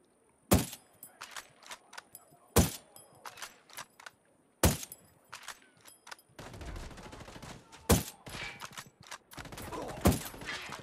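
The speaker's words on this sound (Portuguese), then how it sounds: "Que tiro foi esse?" Gunfire in the video game Ghost Recon Wildlands during a raid on a drug-lab boat: several loud, isolated single shots with quiet gaps, then denser bursts of rapid fire toward the end.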